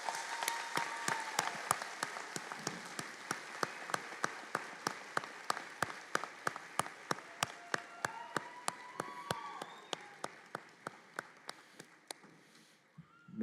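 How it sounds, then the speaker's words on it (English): Audience applause at a community college nurses' pinning and candle lighting ceremony. Steady clapping carries on for over twelve seconds and thins out to a few loud single claps that slow and fade at the end. "Let's give these guys a big round of applause."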